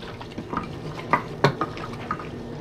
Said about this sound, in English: And now we will just mix it well.